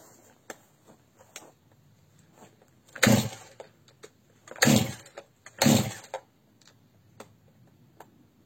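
A Stihl MS311 chainsaw being started after reassembly: three sharp, loud starter-cord pulls stand out amid light clicks and ticks of handling, the engine not catching, close by and without speech.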